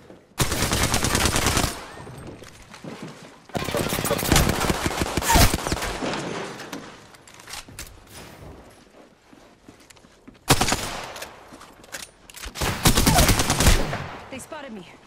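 Gunfire in the video game Apex Legends: loud, close bursts of rapid automatic fire, several seconds each, separated by quieter stretches with lighter shots and movement noise.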